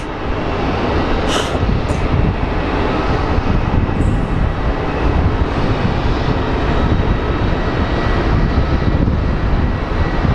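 An American Airlines jet on final approach landing at Phoenix Sky Harbor Airport, a loud steady engine roar that holds strong throughout with a few brief high whines near the start.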